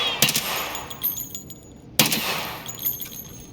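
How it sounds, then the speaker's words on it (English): Gunshots striking a wall in the Escape from Tarkov video game: two sharp, loud cracks about two seconds apart, each with a brief ringing tail, no talk. "I think I just missed and shot the wall there."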